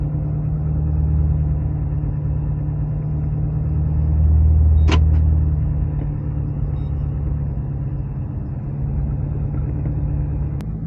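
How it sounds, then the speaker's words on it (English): A car drives slowly through a wooded campground at Double Lake, its engine a steady low rumble heard from inside, with a brief sharp click midway. "So now we'll drive around the park a little bit and show you the rest."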